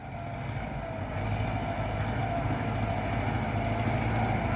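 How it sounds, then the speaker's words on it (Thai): A tractor engine runs with a steady, buzzing mechanical drone that grows slightly louder partway through, heard close and without talk. "เราขับรถไถมา"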